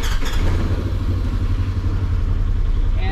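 A Polaris Ranger 900XP UTV on a test drive after a steering rack replacement, its engine droning steadily and loud up close with a deep low rumble and some clatter, no talking.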